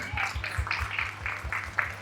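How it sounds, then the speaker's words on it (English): A crowd at a school graduation ceremony gives a quick round of rhythmic clapping, with evenly spaced, fairly close claps and a faint steady hum underneath. "Can we clap for all the teachers and the staff?"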